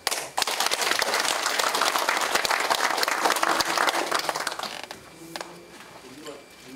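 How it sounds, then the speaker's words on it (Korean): An academic conference audience breaks into a loud, dense round of applause that holds steady for several seconds, then thins out and fades as the clapping dies away. "그래 감사의 뜻을 담아서 박수"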